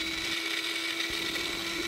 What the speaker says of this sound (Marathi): मग नंतर टमाटेही मिक्सरमध्ये बारीक करून घेतले।